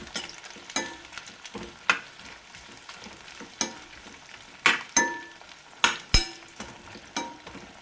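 Bitter gourd sizzles and crackles steadily in a pan over medium heat, crisping while a spatula stirs it, with sharp scraping clinks against the pan recurring every second or so.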